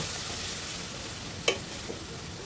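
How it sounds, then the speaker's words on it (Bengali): Spice masala of chilli powder, coriander-cumin powder and salt with water frying in oil for a lentil-fritter curry: a steady, even sizzle throughout, with one sharp scrape of a spatula at midpoint and a fainter one just after. "ভালো করে ভাজতে হবে যতক্ষণ না মশলা তেল ছেড়ে যায়"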